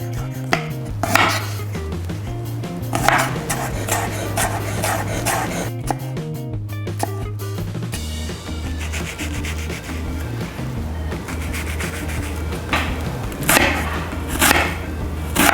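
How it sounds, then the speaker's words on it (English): A kitchen knife smashes and chops garlic on a wooden cutting board, with repeated sharp knocks and scraping taps over steady background noise, no talking. "First thing we're going to do is to cut the garlic. So just smash it down."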